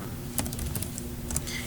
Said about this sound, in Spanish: lo único que necesitamos teclear en el Command Windows es la palabra git